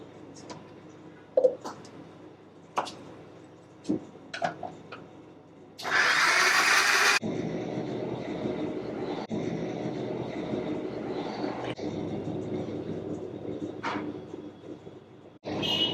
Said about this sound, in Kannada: ನೋಡಿ, ಈಗ ಟೊಮೊಟೊ ರುಬ್ಕೊತಾ ಇದ್ದಾರೆ.